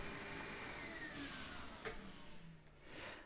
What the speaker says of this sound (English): Can you believe you're watching me hoovering something?